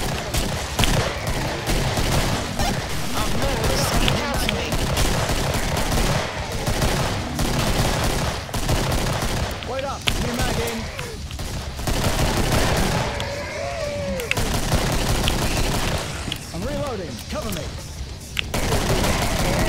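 Near-constant rapid gunfire from the Killing Floor shooter game, dense overlapping bursts of automatic shots running throughout, with voices talking underneath.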